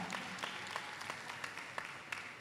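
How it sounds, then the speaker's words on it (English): Steady applause for a woman at a summit, a soft continuous wash of many hands clapping with no talk over it. "let's give her a round of applause"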